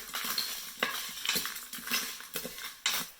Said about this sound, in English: Let it fry for 30 seconds